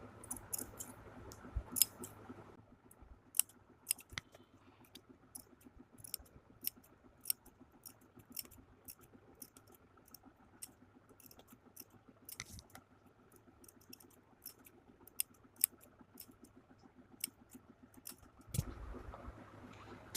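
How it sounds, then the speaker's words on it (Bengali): Scissors snip small angled notches into the curved neck edge of a round-neck blouse, a steady run of crisp, close clicks repeating for most of the stretch with no talking. "এরপর দেখুন ছোট ছোট কাট লাগিয়ে দেবেন"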